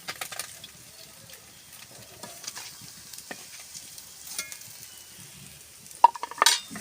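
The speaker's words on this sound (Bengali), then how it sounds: "পুঁটি মাছগুলো আমি এইভাবে ভেজে নিচ্ছি একটু কড়া করে।" Small puti fish frying crisp in oil, a soft steady sizzle with scattered clicks of a utensil stirring and turning them, and a sharper clatter near the end.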